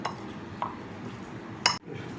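Salad ingredients with kale, honey and salt being tossed and mixed in a dish, giving soft continuous rustling with a few sharp utensil clinks against the bowl, close by and fairly quiet, no talking.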